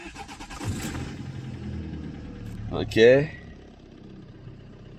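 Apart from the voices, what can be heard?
car engine starting and idling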